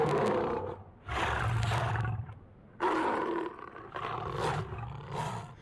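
Tiger roar sound effects made for a film, built from mouth-produced sounds and processed: several deep, rasping roars in bursts separated by short pauses, loud and close with no music or ambience.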